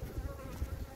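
Honey bees buzz steadily at close range around a hive frame pulled during a queen-rearing check, a low, dense drone that swells and dips in uneven pulses with no talking.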